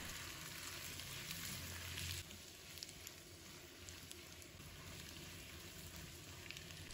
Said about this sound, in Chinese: 将包菜炒至入味